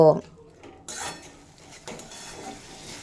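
Pans and utensils clatter as a spice paste is stir-fried with a splash of water for badam potol, with a sharp scrape at the start, then a soft hiss and intermittent scraping and knocks, moderately close.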